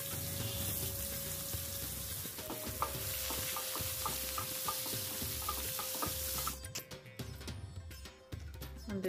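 Spices for a talimpu tempering frying and being stirred in a pan for a curry served with jowar roti, with steady sizzling and regular scraping of the spoon, growing busier and crackly near the end.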